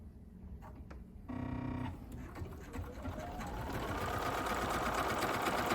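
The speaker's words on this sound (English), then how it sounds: "So we will just stitch a few of these little triangles here." A BERNINA 540 sewing machine stitching small triangle patterns, its motor humming steadily after a brief start, the rapid needle rhythm running close and clear with no voices.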